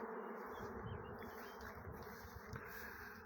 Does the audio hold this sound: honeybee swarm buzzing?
yes